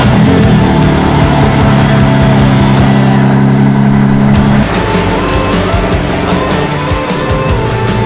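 A 2023 BMW M3 pulls away in Greenville, South Carolina, its engine note loud and steady with a harmonic drone that shifts partway through as it accelerates, running continuously without speech.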